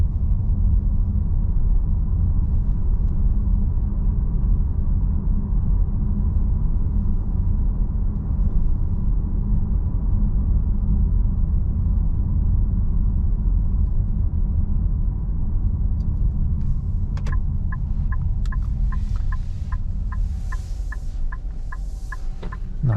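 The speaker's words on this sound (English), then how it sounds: "Nice relaxing sound of the indicators." Turn indicator on a 2023 Nissan Qashqai e-POWER, driven at night: a regular, evenly spaced ticking starts late and repeats steadily over a constant low road and engine rumble inside the cabin.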